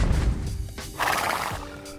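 A Belgian draft horse, a heavy breed weighing up to a tonne, gives a short, fairly close whinny with rising and falling pitch.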